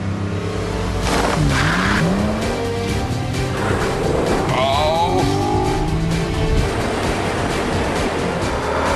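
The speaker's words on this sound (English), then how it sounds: "the BMW on a dry track is slightly quicker to 60 than the TT" BMW Z4 and Audi TT accelerating hard on a dry track, with loud engine notes rising in pitch through several gear changes and constant wind rush, recorded close with no talk.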